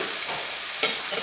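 Cooked brown rice being stirred into a pan of sizzling sausages, onions and tomatoes, a close, steady hiss of frying with a soft scrape of stirring partway through.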